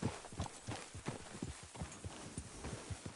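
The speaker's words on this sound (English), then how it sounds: "You got a problem with that horse?" In Red Dead Redemption II, horse hooves clip-clop in a steady, quick walking rhythm, quiet and continuous over a faint background wash.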